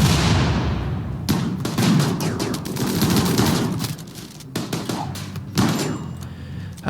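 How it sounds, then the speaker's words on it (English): Grenade blasts and gunfire in the colony-building video game Rimworld: a dense, loud barrage of sharp broadband cracks and thuds, several big bursts rolling over one another for the whole stretch with no talking. "Good grief, how many grenades do you have?"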